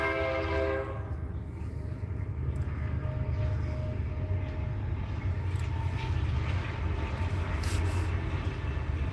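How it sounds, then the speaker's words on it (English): A train passing close by, heard through an open window: a loud blast of its multi-tone horn at the start, then a steady heavy rumble and clatter of cars rolling past. "And there's the whatever time train it is."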